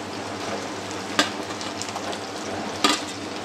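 Garlic, ginger and onion sizzle steadily as they fry in a pan for chicken curry, with two sharp scraping knocks of a stirring spoon against the pan, close and alone.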